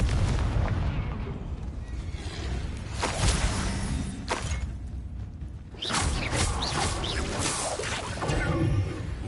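Blasting Confringo spell explosions in Hogwarts Legacy, several loud booming bursts with crackling debris, one after another over a rumbling battle backdrop.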